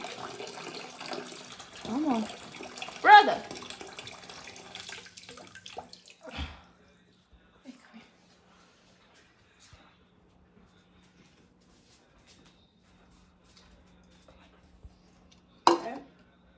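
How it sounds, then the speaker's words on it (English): Water is poured from a small container into a betta fish's tank as a few soft splashes and trickles in a quiet room, over a short spoken phrase, followed by near-silence and one later brief splash. "So I'm gonna dump the water in here."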